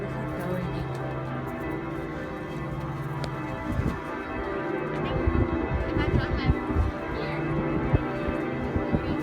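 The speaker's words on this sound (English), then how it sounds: "Bell started ringing right when we got here." Bells ringing at five o'clock in the bell tower of Florence Cathedral, heard from the top of the tower, with a steady hum of tolling beneath scattered clanks and crowd noise.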